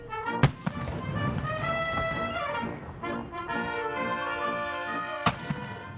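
Sharp ceremonial gun salute shots outside the National Congress building: two loud, isolated booms several seconds apart, standing out over a continuous wash of outdoor crowd and band-like noise.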